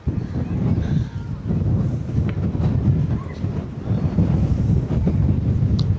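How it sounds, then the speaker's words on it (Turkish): Heavy wind buffets the microphone at the Çanakkale Martyrs' Memorial in Turkey, a steady low roar that keeps swelling, with no clear voices. "Çok efsane bir rüzgar var. Bakın şu an daha da artıyor."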